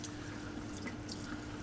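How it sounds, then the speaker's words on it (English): Tap water runs steadily into a sink, a faint, continuous hiss of flowing water with a low hum beneath. "Water just keep running up down the sink."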